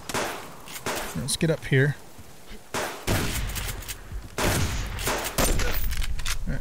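Gunfire in the survival game Subsistence, an E55 Magnum firing several loud, sharp shots spaced apart among other game noise, with someone talking between the blasts.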